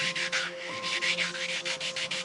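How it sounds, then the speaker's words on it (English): Sheets of 600-grit wet-and-dry sandpaper scrub red paint off metal in quick, rhythmic back-and-forth strokes, close and moderately soft. "I'm just sanding this stuff off here. This is 600 wet and dry paper."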